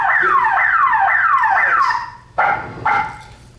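A loud electronic alarm on a shower curtain sweeps downward in repeated wailing cycles, then breaks into two short separate bursts before stopping.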